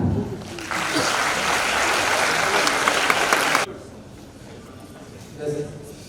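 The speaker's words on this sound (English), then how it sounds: "So give me a clap." An audience at a memorial oration in a medical college breaks into clapping that swells and holds for about three seconds before stopping abruptly, followed by quiet room noise and a brief murmur.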